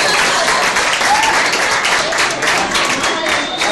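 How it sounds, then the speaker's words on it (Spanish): Students at a school attendance awards ceremony applaud themselves, loud dense clapping from a large group filling the room, steady and sustained with no one speaking. "dense un gran aplauso a ustedes mismos"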